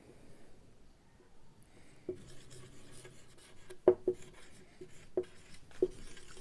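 Pen writing on paper while working a probability problem, soft scratchy strokes with a few sharper taps and scrapes scattered irregularly, close and fairly quiet, with no talking.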